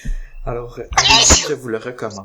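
A single sharp sneeze bursts out mid-conversation in a French-language podcast, loud and close, surrounded by ongoing speech before and after.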